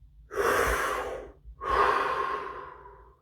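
Two deep breaths, close and alone: a long, airy inhale followed after a short pause by a long, breathy exhale.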